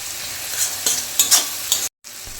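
Garlic and ginger paste sizzles steadily in a hot pan, with a few sharper stir scrapes, before the sound cuts out abruptly near the end.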